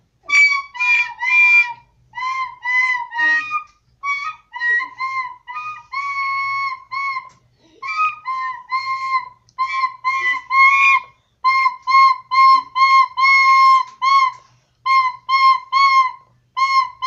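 Close, loud human whistling in a whistling contest, a clear pure-toned melody of short phrases and trills with brief pauses between them, heard alone without talking.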